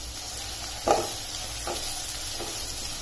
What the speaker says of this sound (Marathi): कांदा आता छान ट्रान्सपरंट होईपर्यंत परतवून घ्यायचा